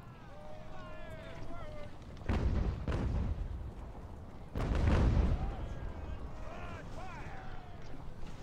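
Artillery fires in a strategy video game, two heavy booming blasts ringing out amid background battle noise, with someone talking over the action.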